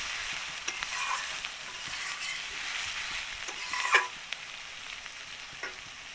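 Onion and garlic fry steadily in hot oil with a little turmeric, a soft continuous sizzle broken by occasional scrapes and taps of a stirring spoon, close and alone without voices.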